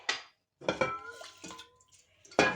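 Homemade mozzarella cheese goes into a bowl of lukewarm salted water, making a few separate wet splashes and clinks with short pauses between them, close and fairly clear.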